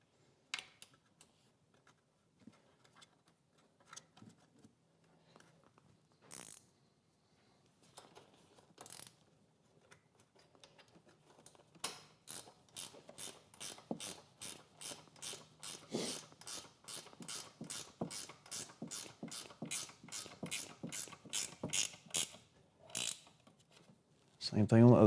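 A ratchet tightens the side bolts on the handlebars of a 2024–2026 Harley-Davidson Road Glide. Sparse clicks come first, then a long run of fast, even ratchet clicks, close and fairly loud.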